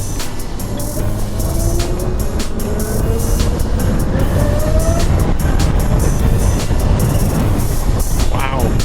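A 2020 Zero SR F electric motorcycle accelerating hard in eco mode, its motor whine rising steadily in pitch over steady road and wind roar, with a rider's voice over it.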